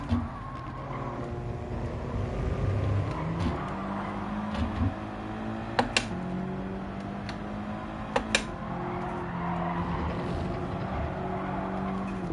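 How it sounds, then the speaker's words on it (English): A race car engine in Gran Turismo 7 held at a sustained drone with shifting pitch, joined by a few brief sharp clicks, steady and fairly loud with no talking. "we're revving it out"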